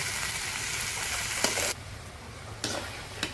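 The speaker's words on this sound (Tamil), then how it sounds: "பாருங்கள் நல்லா வதங்கிட்டு இருக்கு தக்காளி வெங்காயம்லாம்" Tomatoes and onions sauté with ginger and garlic in a pan on low heat for a village-style prawn curry, giving a steady close sizzle and crackle with a few sharp pops and spatters and no voices.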